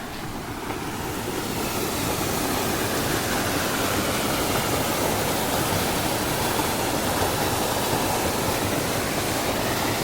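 Water rushes loudly and steadily down a Konkan stream, a dense broadband roar that swells in within the first seconds and then holds constant throughout, with no voices over it.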